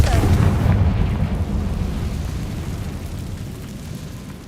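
Confringo fire spell blast in Hogwarts Legacy, a heavy booming explosion at the start that rumbles and slowly decays over several seconds, loud and close with no talking.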